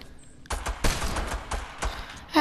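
Video game gunfire in Fortnite: a quick volley of sharp, close shots in an irregular burst over a couple of seconds, loud and without speech.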